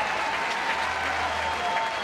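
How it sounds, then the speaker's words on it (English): A crowd at a Clemson college baseball game against Dallas Baptist applauds and cheers in a broad, steady wash of sound from the stands after a run scores to make it 11-0, heard at a distance with no voice over it. "Crowd making some noise."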